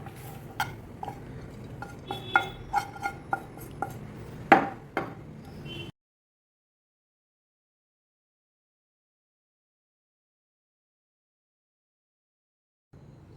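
A spoon stirs cooked rice with cucumber in a metal vessel, giving a string of close clinks and scrapes over roughly six seconds, then long silence.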